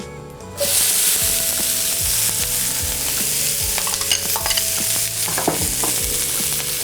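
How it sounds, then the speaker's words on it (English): Onions hitting a hot pan used for browned Salisbury steak patties, a loud sizzle that flares up at once and keeps hissing steadily, with a few stirring scrapes and no talk. "To the same pan, I'm gonna add my onions."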